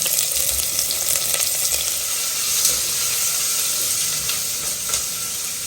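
Chopped onions hit hot oil with curry leaves, giving a loud, continuous close-up sizzle with crackling pops and occasional stirring scrapes.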